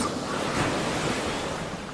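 Ocean waves break and surge in windy weather, making a loud, continuous roar of surf mixed with wind rumble against the microphone.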